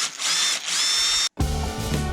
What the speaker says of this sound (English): Looks like he's screwed with that drill.